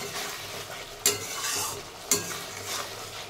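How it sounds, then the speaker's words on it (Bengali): Spice paste for potato curry sautés in oil with a soft, steady sizzle under stirring, and two sharp spoon clanks against the pan punctuate the frying. "এবার এই কষানোটা, মশলাটা পুরো কষে আসুক"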